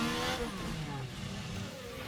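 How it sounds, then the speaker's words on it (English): An F1 car engine in F1 Manager 24 screams as it accelerates, a loud, harmonically rich whine rising briefly before the car hits a wall. "Listen to the engine."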